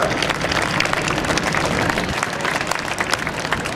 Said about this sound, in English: Would you join me in a round of applause for a great demonstration, Sean Carroll?